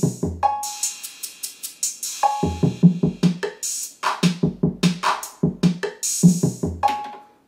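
A punchy electronic drum pattern made with a stutter edit effect, rapid stuttering repeats, kicks and snares chopped into quick bursts with short gaps between them.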